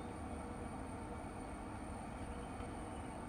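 A Chennai Beach to Tambaram fast local train approaching in Train Simulator (Railworks 3), a steady, loud low rumble of rolling rail noise that holds evenly throughout with no voices.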